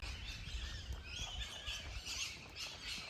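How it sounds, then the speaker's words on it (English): Wild birds chirp and call in a kookaburra habitat teeming with bird life, faint overlapping tweets and short calls scattered over a quiet outdoor background. "Every meter you walk, you see another bird or you hear another bird."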